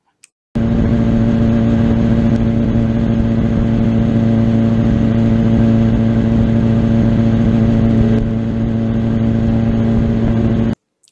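A motorcycle engine drones steadily and loudly throughout while the bike is ridden and steered by the handlebars alone, the constant hum dipping slightly near the end before it stops abruptly.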